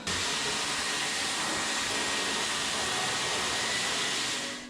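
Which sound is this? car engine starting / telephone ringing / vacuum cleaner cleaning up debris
vacuum cleaner cleaning up debris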